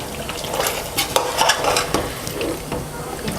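Chicken biryani masala, Tamil Muslim wedding style with tomatoes and yogurt added, stirred and fried in a pot, giving a steady sizzle broken by scraping spoon strokes and a few metallic clinks, close and moderately loud with no talking.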